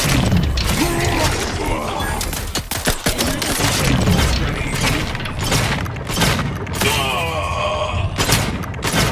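Explosion in the video game The Outer Worlds 2, with heavy booming blasts and gunfire-like bursts packed over several seconds amid loud combat noise.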